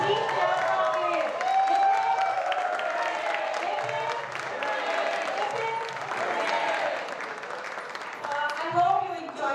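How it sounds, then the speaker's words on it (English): Audience at an open mic show applauds for the child performers, clapping under a steady stream of voices and chatter that stays prominent throughout. "Please clap for kids."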